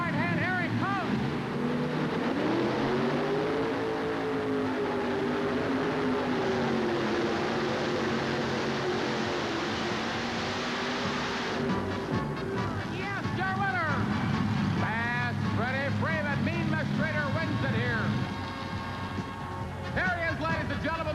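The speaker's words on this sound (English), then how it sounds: "He'll roll that tractor out about 5 feet. He'll bury that throttle on the right hand." A Chevrolet-powered modified dragster pulling tractor runs at full throttle at a tractor pull, a loud, continuous roar that wavers in pitch, with a crowd and announcer audible beneath it.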